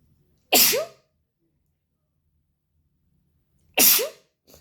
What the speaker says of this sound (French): j'ai envie d'éternuer, je suis désolée.